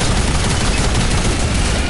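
Turret firing in a video game, a loud dense continuous barrage of rapid shots filling the whole short moment without pause.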